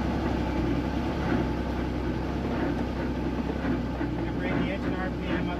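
A Robinson R44 helicopter engine runs steadily during startup with the clutch engaging, a constant near, loud drone with mechanical whine that fills the cabin throughout, with no talk heard.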